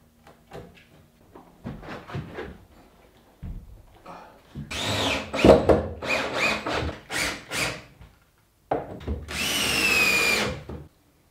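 A router cuts a hinge recess into wood during a small glass-house build, heard as a series of loud, short grinding bursts with pauses, then a sustained high whine to finish.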